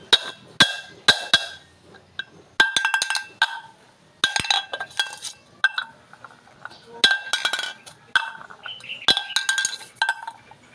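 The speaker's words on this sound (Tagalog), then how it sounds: "Naka 24 na po ako ng pag-flip ng lata na to" A metal can is flipped over and over, giving bursts of bright, ringing clinks and clatters that come in irregular clusters, close and fairly loud, with short quiet gaps between them.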